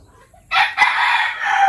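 A single loud rooster crow rings out close by, a long strained call after a brief quiet start.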